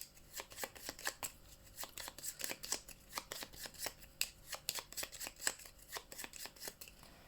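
Cards for the Glass Road board game are riffle-shuffled up close, a steady run of crisp, rapid flutters and snaps with regular bursts repeating throughout and no talking.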